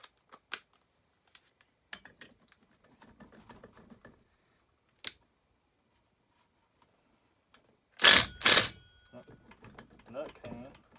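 Metal clicks and ratchet ticks come from a wrench working at the clutch nut of a McCulloch Super Pro 80 chainsaw in teardown, sparse taps at first, then two loud grinding bursts as the nut gives, followed by lighter rattles.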